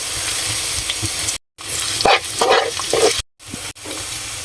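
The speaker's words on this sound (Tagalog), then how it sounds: "Pag mainit na po ang kawali, igisa na natin ang bawang." Garlic sautéing in a hot pan makes a crackling sizzle close by, broken by a few brief gaps and with scattered sharper pops and stirring sounds.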